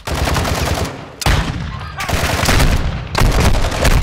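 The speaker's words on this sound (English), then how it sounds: "He's shooting at me." Automatic gunfire aimed at the player in Call of Duty DMZ on Ashika Island, loud, close bursts in three or four rapid strings separated by short gaps.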